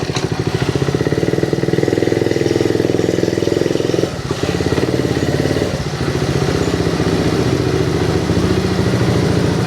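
Small engine of a restored 1972 Honda Trail 70 CT70 motorcycle running, a steady rapid putter close to the microphone with a brief dip in revs midway, loud and continuous with no talk.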